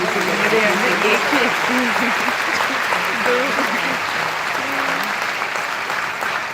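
Steady applause fills an auditorium at a university parent orientation, dense and sustained for the whole stretch, with voices talking and calling out over the clapping.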